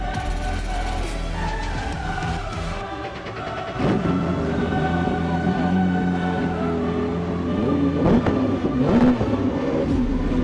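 A Porsche flat-six engine in a light, roughly 2,600-pound, 485-horsepower car revs hard and steadily up close, a loud sustained mechanical growl with rising pitch swells and no talking.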